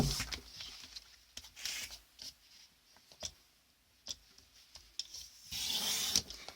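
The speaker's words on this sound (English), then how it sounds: "So we're going to trim off the ends now." Paper ends are trimmed on a paper bag mini album cover: quiet, intermittent scraping and rasping strokes come in short bursts with pauses between them, close by and with no talking.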